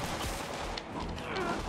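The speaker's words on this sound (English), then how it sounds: "There's a lot of gunfire." Dense bursts of rapid gunfire in Spider-Man on PS4 crackle continuously, overlapping shots in a sustained barrage with a synthetic, game-like quality.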